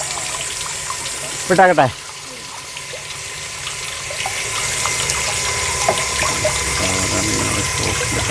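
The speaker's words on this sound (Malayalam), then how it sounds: "നേരെ നമ്മുടെ മേത്തേക്കൊക്കെ വെള്ളം തെറിക്കുന്നത്." Water from the outlet of a BLDC solar submersible pump gushes in a continuous, fairly loud rush. A brief spoken phrase cuts in near the start, then the flow carries on alone.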